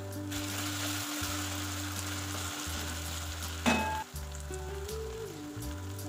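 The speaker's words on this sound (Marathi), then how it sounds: "1 टोमॅटो टाकूया कट केलेला आणि थोडंसं मीठ टाकून परतवून घेऊन ना त्याला पण झाकण ठेवून" Chopped tomato with ginger-garlic paste and salt sautés in a pan, giving a steady, close sizzle with low hums underneath and one brief clatter partway through.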